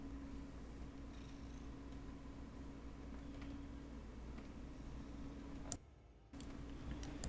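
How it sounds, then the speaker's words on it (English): Faint, steady purring of a house cat sitting on a desk near a microphone, a low continuous hum with soft ticking clicks, briefly cutting out once, with no talking. "Is this mic picking up the purring?"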